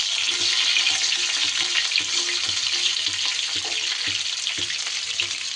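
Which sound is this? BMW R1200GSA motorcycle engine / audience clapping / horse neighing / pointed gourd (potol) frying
pointed gourd (potol) frying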